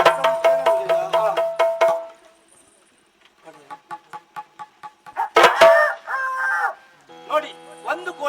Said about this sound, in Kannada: ನೋಡಿ, ಒಂದು ಕೋಳಿ ಕೂಗ್ತು.